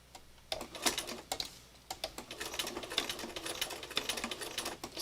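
A sewing machine runs slowly, laying down stitches in uneven bursts of quick, light mechanical ticking and whirring, close and fairly quiet, with brief pauses between runs and no talking.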